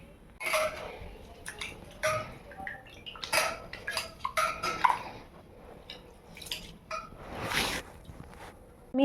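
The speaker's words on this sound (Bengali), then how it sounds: "এখানে ভালোভাবে চালটা ধুয়ে নিয়েছি" Rice is washed in a metal pot with close, irregular bursts of swishing water, rattling grains and clinks against the pot, separated by short quiet gaps.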